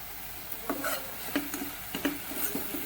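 Chili powder and salt sautéing in oil for rajma, with a soft steady sizzle under a few scraping stirs and light clinks of a spoon against the pan, close and fairly quiet, no talking.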